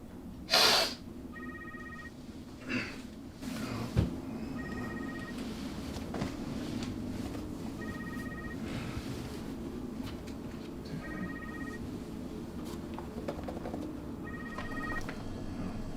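Telephone ringing on the line while a call is placed, repeated short ring bursts at steady intervals, faint and distant under a low steady background hum.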